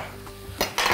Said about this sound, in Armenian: գցում ենք կաթսայի մեջ